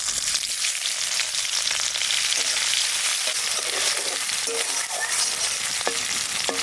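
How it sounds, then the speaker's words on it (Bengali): Chopped onions sizzle loudly in mustard oil in a wok, with dry red chilli, bay leaf and cumin, a dense continuous crackle with stirring scrapes and light clinks, close and steady with no talk. "পেঁয়াজটা ভাজা ভাজা হয়ে গেছে"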